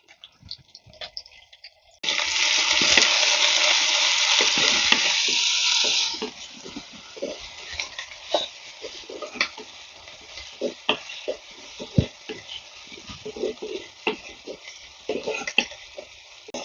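Ginger, green chili, curry leaves, garlic, onions and small onions hit hot oil in a pan with a loud burst of sizzling that fades after a few seconds, followed by quieter frying and scattered clicks and scrapes from stirring.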